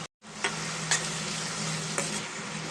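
Onions and green chillies fry in a pan for chicken fry, a dense, close sizzle broken by a few sharp stirring clacks, with no speech.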